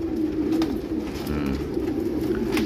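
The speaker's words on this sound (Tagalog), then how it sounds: "may sakit tong ibon na to" A sick young racing pigeon coos in a loft, a low steady purring call that runs continuously and close to the ear, with no voices.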